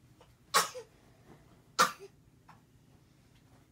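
An eight-month-old baby girl sneezes twice, two sharp, loud bursts about a second apart, with a softer breathy sound following each one in an otherwise quiet room.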